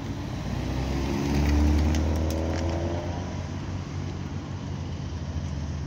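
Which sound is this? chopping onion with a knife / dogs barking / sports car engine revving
sports car engine revving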